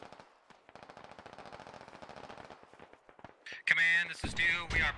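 Sustained automatic machine gun covering fire in the military shooter game Squad, a rapid rattling burst running for about three seconds, followed by a loud close voice speaking over radio-like noise.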